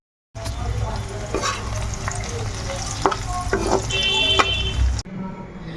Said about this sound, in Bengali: আলু আর বরবটি কেটে নিয়েছি ভাজা করে